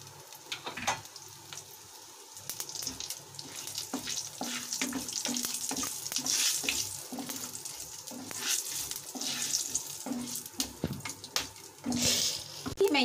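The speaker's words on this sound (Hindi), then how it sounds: "अब मैं इसमें जीरा दालचीनी, लौंग और इलायची डाल दूंगी।" Cumin, cinnamon, cloves and cardamom crackling in hot oil, a close, bubbling sizzle that swells and fades, with sharp clicks and scrapes from a spoon stirring.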